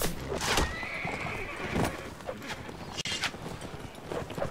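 In the video game Mount & Blade: Warband, a horse whinnies loudly, then clip-clopping hooves and further neighs follow, with a voice briefly speaking over the busy scene.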